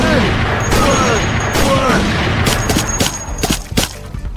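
Rapid bursts of gunfire rattle out in a video game battle against Siren Head, sharp repeated cracks over a busy, loud game soundscape, growing choppier toward the end.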